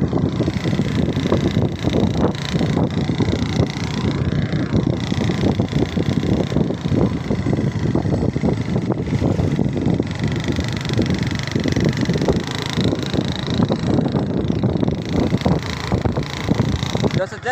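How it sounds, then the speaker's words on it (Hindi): Steady engine drone and wind rush from a motorcycle moving along a road, continuous and fairly loud, with voices talking over it. "हम अभी रोड पे आ चुके हैं, मोटरसाइकिल से जा रहे हैं।"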